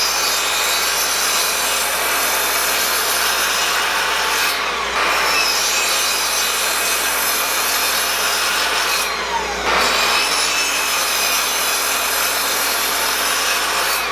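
Hand saw cutting through a wooden 2x4 board in steady back-and-forth rasping strokes, loud and close, with two brief pauses between stroke runs.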